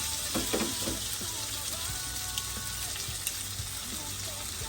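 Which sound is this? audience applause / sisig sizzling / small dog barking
sisig sizzling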